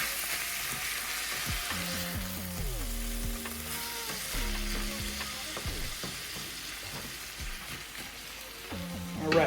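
Eggs and sauce fry and sizzle in a pan, a steady close hiss with stirring and scraping clatter and a few utensil clinks, no talking.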